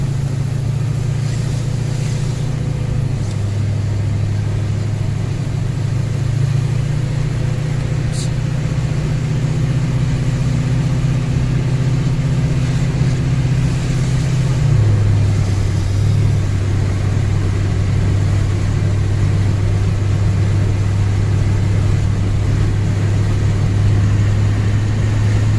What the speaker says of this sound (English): Truck just accelerates right up to speed though.